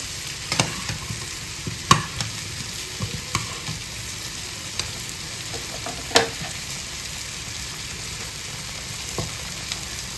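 Food frying in a pan with a steady sizzling hiss, broken by occasional sharp clacks and scrapes of a utensil stirring it, close and clear with no talking.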